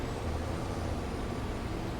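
A loud truck in Farming Simulator 22 gives off a continuous low, grinding engine rumble with a faint hiss, quiet in level but steady across the short stretch, with no talk over it.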